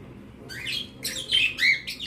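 Pet birds kept next door chirp and tweet in several bright bursts, fairly close and clear, with no voices over them.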